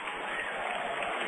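A minor-league baseball crowd, Frisco RoughRiders at Arkansas Travelers, applauds a diving catch by the center fielder, a steady, even wash of clapping and cheering with no gaps.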